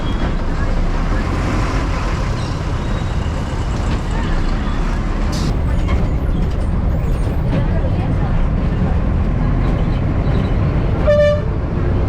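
Chennai MTC city bus 45B pulling in at a roadside stop in steady heavy traffic noise, engine rumble throughout with a short horn toot and brake hiss near the end, someone talking over it.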